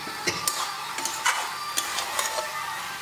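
Chickpea curry (chole), soaked overnight, being stirred and sautéed in a pan, with a steady sizzle under a series of sharp scraping clicks of a utensil against the pan, close and without talk.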